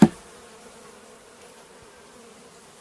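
Honey bees from a small fall swarm cluster buzz in a steady, close drone after a brief knock at the start, with no talking.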